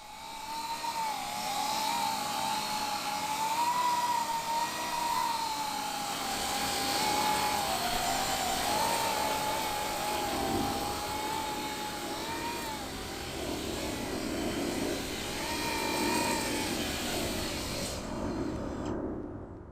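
A Coanda-effect drone flies and hovers, giving a steady, loud whirring drone with a wavering whine that holds for the whole stretch and cuts off sharply at the end.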